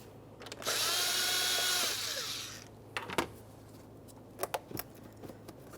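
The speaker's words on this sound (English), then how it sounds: "We're going to start loosening the 7mm headed clamp" A 7mm-headed hose clamp on a 2014-2018 Mazda 3 radiator being loosened with a power driver, one loud whirring burst lasting about two seconds, then scattered clicks and clanks of handling nearby.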